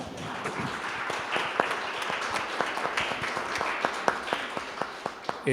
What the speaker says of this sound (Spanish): doctor Pedroche, para quien pido un fuerte aplauso, por favor.